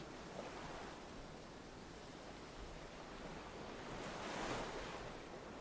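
Ocean waves in the video game Haven Moon roll and hiss as a steady, broad surf wash with a gentle swell, quiet and continuous, with no voices.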